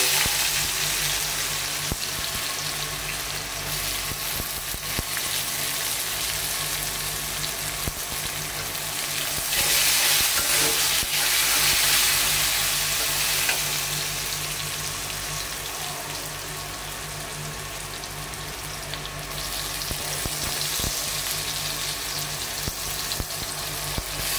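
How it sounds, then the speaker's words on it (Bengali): Jackfruit seeds frying with turmeric, chili and coriander in a pan give a steady, loud sizzle and crackle, continuous throughout with brief swells of spattering and occasional stirring. "এখন আমি কাঁঠাল বিচি দিয়ে দিতেছি"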